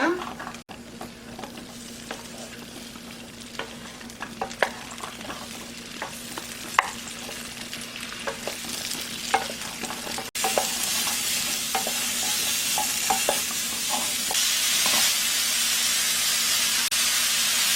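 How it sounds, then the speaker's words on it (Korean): Button mushrooms stir-frying in perilla or cooking oil in a frying pan give a steady close sizzle with scattered clicks from stirring; the hiss grows louder and brighter partway through. "후라이팬에 들기름이나 식용유 좀 둘러주고 버섯을 넣어주고 볶아주세요"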